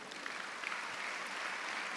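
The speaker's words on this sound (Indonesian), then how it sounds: "Yang setuju berikan tepuk tangan." A church congregation applauds during a sermon, a soft, steady spread of many hands clapping, faint and distant, continuing evenly without voices.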